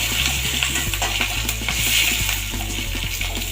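Black mustard seeds, dried red chillies and fresh curry leaves fry in hot oil, giving a steady, close hiss with a low hum beneath and no talking.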